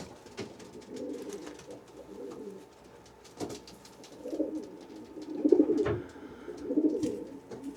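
A racing pigeon from a one-loft race team coos while held in hand, several soft rolling coos rising toward the end, close to the microphone with no talk over them.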